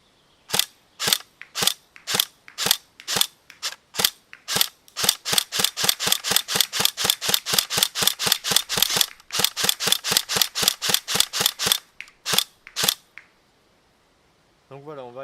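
Tokyo Marui AK47 Next Gen airsoft rifle firing in semi-auto, a long string of sharp, loud cracks, first spaced then rapid and steady, emptying the magazine before a brief tail of quiet.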